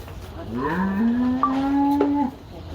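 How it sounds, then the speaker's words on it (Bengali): A single long, loud cow moo at Gabtali cattle market, rising then holding a low drawn-out tone for about two seconds, close by with faint background noise. "ওই যে গরু যাচ্ছে"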